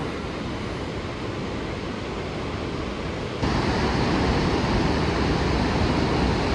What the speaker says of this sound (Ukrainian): Водоспад справді дуже високий, дуже великий, скелі такі над ним.